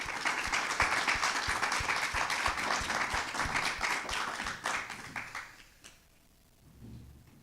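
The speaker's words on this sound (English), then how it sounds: "And round of applause," A round of applause from an audience at an anniversary celebration, dense steady clapping that carries on for several seconds, then thins out and fades to near quiet with a few scattered claps.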